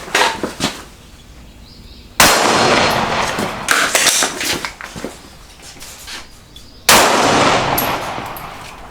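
Gunshots during a braced barricade shooting drill: two sharp, loud reports a few seconds apart, each with a lingering echoing tail, with faint clatter and rustling between them outdoors.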